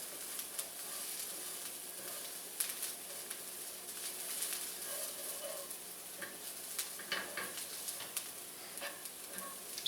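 Onions fry in a pan for a homemade onion dip, giving a soft, steady sizzle with scattered crackles and light scraping as they are moved around, fairly faint and close.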